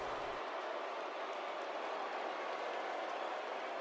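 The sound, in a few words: arena crowd reacting, from video game WWE 2K17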